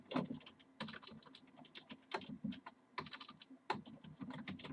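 Quick, irregular key clacks on a computer keyboard, with bursts of typing and short pauses, close and fairly quiet, with no voices.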